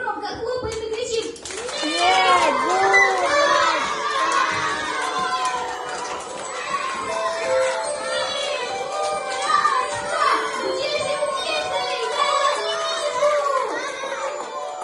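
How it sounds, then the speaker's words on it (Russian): Children clap and shout together at a New Year's party, a loud, sustained burst of young voices and hand claps with chattering and cheering throughout. "Вытягиваем ручки, громко хлопаем и кричим"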